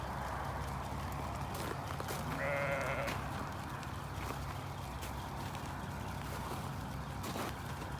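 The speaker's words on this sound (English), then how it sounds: "Hey look, there's a sheep." Dairy sheep on a farm, with a single bleat rising briefly over a busy, noisy barn background of shuffling livestock and clatter.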